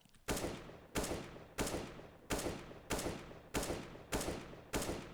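Gunfire in the shooter game CS:GO: eight loud single shots, evenly spaced about two-thirds of a second apart, each a sharp crack with a short decaying tail and no talking.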